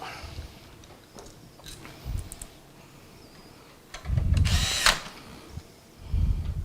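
A power drill drives screws back into a large super-tower PC case. Several short whirring bursts come close by, separated by pauses filled with quiet handling clicks.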